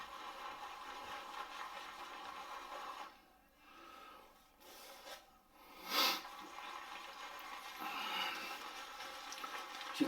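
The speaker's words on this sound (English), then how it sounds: "I think in this case I might be ball lathering." A shaving brush ball-lathers Master Soap Creations Orange and Cedarwood soap in a bowl, a soft wet swishing rasp that swells and fades close by, with a brief brighter splash midway.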